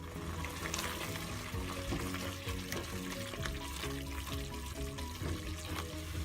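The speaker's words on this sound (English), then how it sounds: "now we'll be frying our onions till they turn little bit on light golden color" Onions fry in a pan for a chicken curry masala, a steady close sizzle with a spoon stirring and scraping through it, fairly quiet overall, with no talking.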